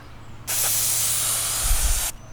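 A single sustained hiss from an aerosol spray chalk can spraying for about a second and a half, close and loud, starting and stopping abruptly.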